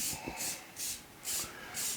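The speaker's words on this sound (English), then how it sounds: "I'm going to spray it with a little bit of olive spray, olive oil." Olive oil cooking spray misted onto a turkey breast: five short, even hissing bursts in a steady rhythm, close and fairly soft.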